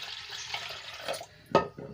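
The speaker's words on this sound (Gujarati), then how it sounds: "તો હવે આપણે દાળ ડૂબી એટલું આપણે પાણી એડ કરીશું" Water poured from a glass onto washed lentils in a pressure cooker makes a steady, close splashing flow, ending in a brief louder splash or clunk near the end.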